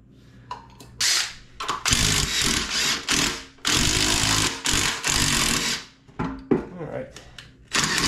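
A diesel trench compactor's engine fires in loud, harsh, pounding bursts that start and stop unevenly, with quieter gaps between them and a voice briefly present.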